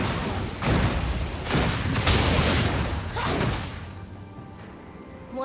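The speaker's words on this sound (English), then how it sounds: "Fireworks?" Video game fireworks boom in a run of heavy, loud blasts with crackling tails, spaced roughly a second apart, then fading to a quieter rumble.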